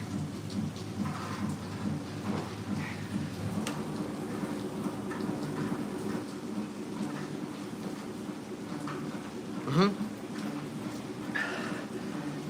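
Continuous rainfall pattering on surfaces with a low rumbling background and a few brief sharper sounds, no one speaking.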